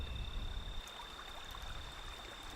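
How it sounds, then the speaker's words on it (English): Faint, steady trickling of water in a desert, a soft continuous burble with a thin high whine in the background and no voices. "That is the trickling of water, the very sound of life itself."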